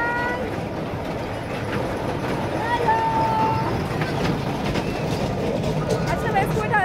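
A metro train at a station rumbles and rolls steadily with a drawn-out screech of the rails, while people talk nearby over the background noise of the station.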